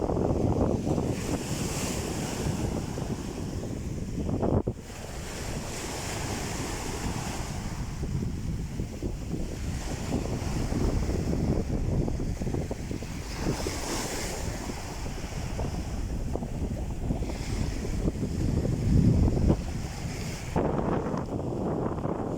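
Sea surf and gusty wind at Azla beach near Tetouan, waves washing in steadily with heavy wind buffeting the microphone throughout, no voices.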